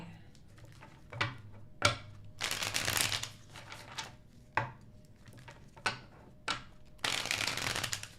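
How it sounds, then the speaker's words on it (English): Tarot cards being shuffled during a live reading, riffled in repeated bursts of crisp flutter and sharp slaps, with short sustained riffles and single taps spread across the stretch, close and fairly quiet. "Last shuffle for Libras."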